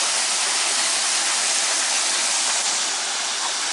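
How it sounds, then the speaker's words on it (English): Jets of water spray steadily in a gold mining wash plant, a loud, dense broadband hiss like a waterfall that runs unbroken and close throughout, with no voices. "This is a wash plant. You're going to drop it in a hopper up here. And you see all the jets of water."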